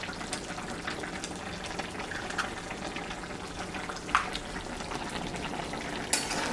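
Eggs cooked with soybean chunks are stirred in a pan, giving a quiet, steady frying crackle with two sharp spatula knocks near the end and no talking.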